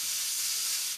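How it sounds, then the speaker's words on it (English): An airbrush sprays paint onto the front of a 1/48 Eduard Su-25 model cockpit, a steady, close airy hiss that runs for about a second and then cuts off. "Now all we're going to do is just spray the front part of the cockpit."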